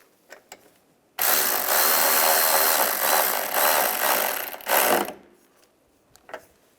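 A ratchet wrench clicks in a long, steady burst as it tightens the ground strap bolt on a 2007-2013 Chevrolet Silverado 1500, loud and close, with a few faint taps before and after.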